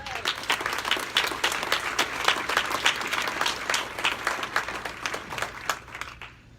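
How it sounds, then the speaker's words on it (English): An audience at a 2019 Class of 30 & Under awards event gives a big round of applause, with dense sustained clapping from many hands that tapers off at the end. "big round of applause"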